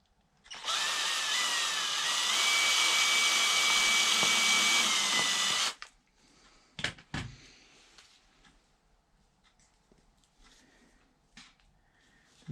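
A power drill drives screws into a camper wall during a teardrop camper build, one loud sustained whirring run of about five seconds, followed by quieter clatter and handling knocks.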